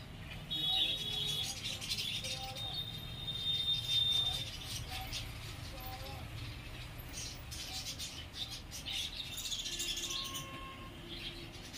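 A pet parrot with a crest on its head gives bright, repeated chirps and whistled calls, clear and fairly close, over a steady indoor background with no speech.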